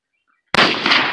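A single sharp gunshot fired at a bottle perched on a sink, preceded by near silence, then a loud, close crack followed by a sustained, noisy decaying tail.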